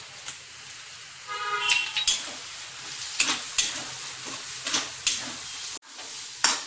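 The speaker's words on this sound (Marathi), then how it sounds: "वाटण आपलं छान परतून झालेलं आहे." Stone-ground masala paste for a spicy Maharashtrian mutton rassa sautéing in oil in a kadhai, a soft continuous sizzle broken by regular scraping strokes of a spoon against the pan, close and alone without talk.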